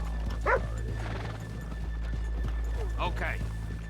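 Horses in a Red Dead Redemption town street snort and whinny near and loud, with faint hoof sounds and a low steady hum beneath, while someone talks over them.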